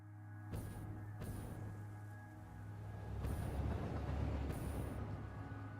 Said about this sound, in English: Just barely clipped the bottom of the train there.